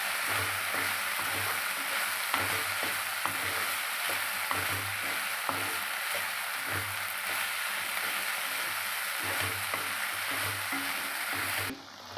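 An okra and tomato fry sizzling steadily in a pan while being stirred, a constant soft crackle with intermittent scraping knocks, close and moderately quiet, with no talk.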